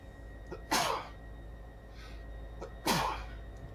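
Two sharp sneezes from one person indoors, each a loud burst preceded by a short intake of breath, spaced about two seconds apart over a quiet room hum.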